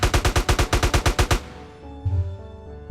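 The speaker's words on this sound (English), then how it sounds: "You can see after 30 rounds, we reload and we can shoot again." Rapid fire from a Smith & Wesson MP15 rifle in a role-play video game: about a dozen sharp, evenly spaced shots in a quick burst, then a fading tail with faint mechanical clicks of the weapon.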